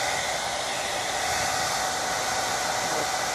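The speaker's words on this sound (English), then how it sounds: "So now I'm going to blow dry that." A hair dryer blows steadily close by, drying a watercolor bookmark, giving a loud continuous rushing whoosh with no change in pitch and no talking.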